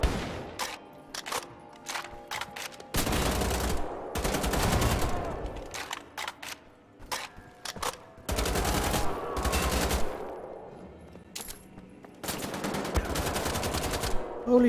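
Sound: gunfire in the video game Wolfenstein: The Old Blood

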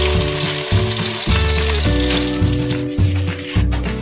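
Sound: pork meat frying in a pan

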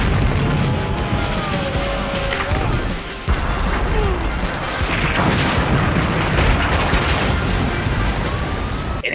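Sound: explosions from Jackie Chan movies

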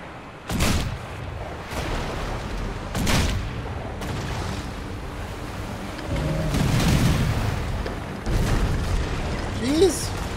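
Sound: ship cannons firing, from video game Risen 3: Titan Lords

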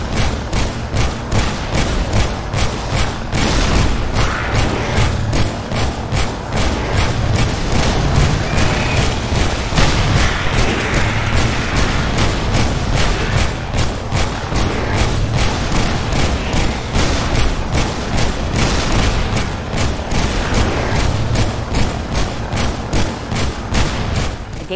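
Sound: double weapon fire in the video game Halo: Spartan Strike

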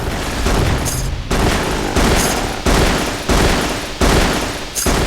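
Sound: rifle firing in bursts in video game Frater

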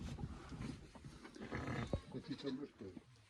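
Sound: sheep bleating

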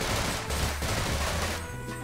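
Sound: machine gun fire in a Half-Life mod video game

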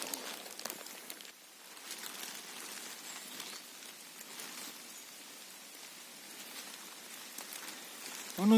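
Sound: light rain falling in a forest

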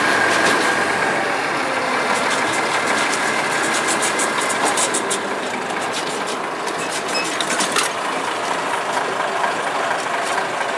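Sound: locomotive number 7 running on track

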